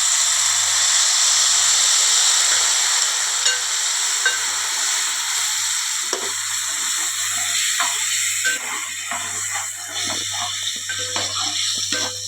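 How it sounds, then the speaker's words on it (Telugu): Tamarind juice with salt and jaggery boils vigorously in a pan on the stove, giving a steady, close hiss with faint bubbling and small pops. "ఇలా బాగా మరుగుతున్నప్పుడు అండి కొంచెం పొంగిద్ది కదండి"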